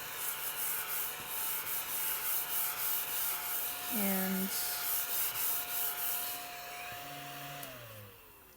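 A small desktop vacuum cleaner hums steadily at close range while it sucks up eraser shavings from a drawing surface, its motor whine shifting in pitch as it is moved and switched.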